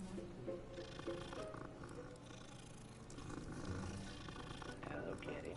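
A cat purrs in a fantasy wizarding-school game setting, a low continuous rumble running the whole time beneath game music and background talk.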